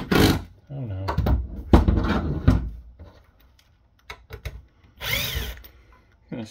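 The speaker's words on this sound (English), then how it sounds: "Gonna strip out the screws in the rack here" A power screwdriver backs screws out of a Cisco ASA 5525-X adaptive security appliance firewall during a teardown, with several short whirring bursts and metallic clicks close by.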